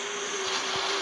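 An event airplane in the Free Fire video game flies overhead, a steady, loud engine drone with a constant tonal hum that holds evenly with no pauses.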